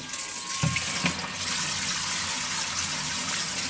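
A small device circulating water inside a basin makes a steady, close rushing and gurgling wash that runs without a break, with a couple of faint knocks near the start.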